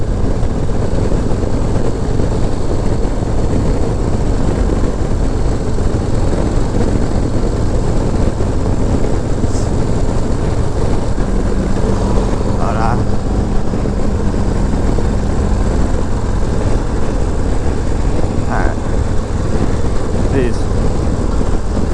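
Harley-Davidson Low Rider ST motorcycle cruising on an open road, a steady loud engine drone mixed with heavy wind rush throughout, while a rider talks over it.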